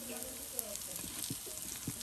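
Food deep-frying in hot oil until crisp for a village iftar, a steady close sizzle with soft stirring clicks and faint voices in the background.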